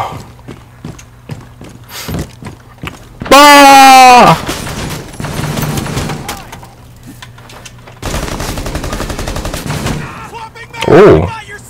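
Video game gunfire comes in several loud bursts, including a dense rapid-fire stretch and later salvos, mixed with other game effects and a voice.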